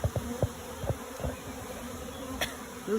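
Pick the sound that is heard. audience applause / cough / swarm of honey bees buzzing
swarm of honey bees buzzing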